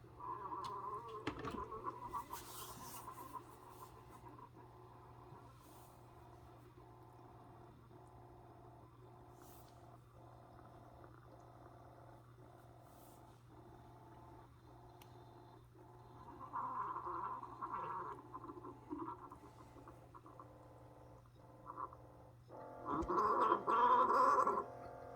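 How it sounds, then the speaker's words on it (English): A Keurig K-Latte coffee maker brews a shot, giving a low, steady hum with a regular pulsing pump throb, growing louder in gurgling bursts toward the end. "now we're brewing the shot into this"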